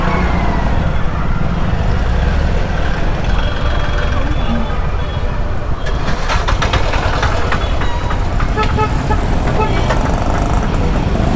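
Busy city road traffic with engines rumbling and several car horns tooting, strongest in the second half, while people talk over the din.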